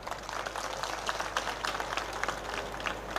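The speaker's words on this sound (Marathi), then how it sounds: "तुम्ही टाळ्या वाजवताय" A crowd at a political rally claps in a dense, steady patter that stays even throughout, with many hands blending into a continuous wash of applause at moderate distance.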